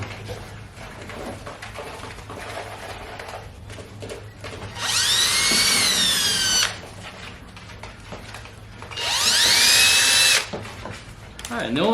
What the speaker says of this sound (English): Take my 16th inch drill bit